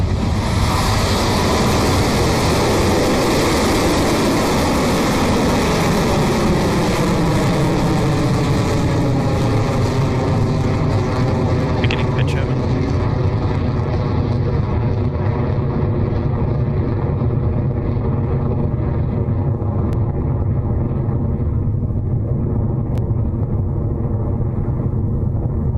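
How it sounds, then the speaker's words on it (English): Rocket Lab Electron rocket lifting off from New Zealand: a continuous, loud, thunderous roar with deep rumble, its hiss slowly dulling as the rocket climbs away, no voices. "Our 50th Electron rocket has taken flight and is headed to orbit carrying 5 satellites for Kinéis."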